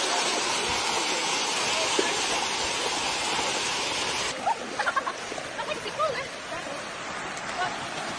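Broad steady rush of a waterfall at Chiang Mai's sticky, non-slip rock falls, a constant wash of water with voices and splashy movement breaking through in the second half.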